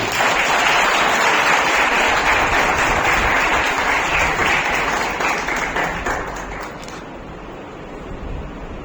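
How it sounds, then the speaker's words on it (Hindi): Loud, dense applause from an audience at an award ceremony honouring Archana Patel, sustained for several seconds before tapering off and cutting away near the end. "ऐसे हमारे ऑनरेबल अर्चना पटेल मैम, जोरदार तालियां उनकी।"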